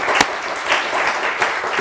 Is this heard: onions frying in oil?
no